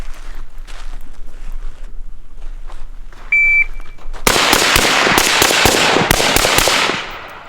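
SCAR 16 rifle fired on an outdoor carbine course, first a short electronic start beep, then a loud rapid string of sharp gunshots with echoing cracks, close to the microphone.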